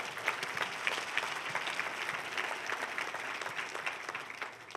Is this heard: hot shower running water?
no